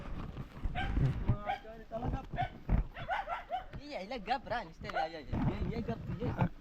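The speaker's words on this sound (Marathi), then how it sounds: "हा जाम बाहेर पण जाम भुकतोय" Dogs bark and yip in short bursts outdoors in a forest, with some whiny, high-pitched cries, while people talk nearby throughout.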